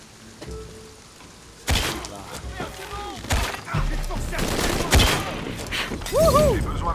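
Gunfire and impacts crack and clatter in the action game Shadow of the Tomb Raider, arriving as sharp bursts over a dense, rumbling game mix while a player talks.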